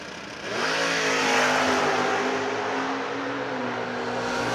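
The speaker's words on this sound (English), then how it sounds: "Third gen Camaro chasing down the Nova and getting it done" A third-generation Camaro and a Nova launch in a drag race, engines rising into a loud, sustained roar after a brief quiet start, holding a strong steady drone close by before easing slightly near the end.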